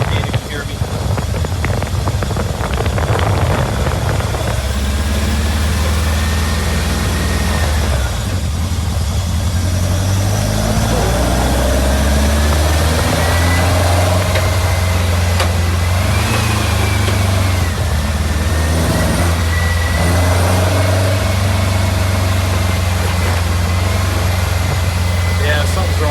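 A VW Beetle engine with its idle out of adjustment after carburetor work, revving high and droning loudly without settling back to idle, rising and falling in pitch for a long stretch while a person talks over it.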